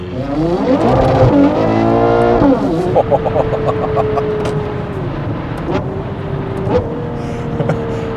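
A Novitec-tuned Ferrari Purosangue V12 with Novitec exhaust revs hard, then settles into a loud sustained drone with crackling pops and a few throttle blips, close and powerful.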